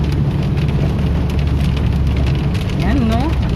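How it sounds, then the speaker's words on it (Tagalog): Rain falling steadily during an outdoor nature outing, a constant loud hiss of drops on surfaces, with a voice talking briefly over it near the end. "Naririnig niyo yung ulan."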